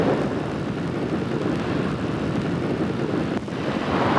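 Propeller aircraft engine droning steadily in flight, a loud constant roar with wind rush, no voices.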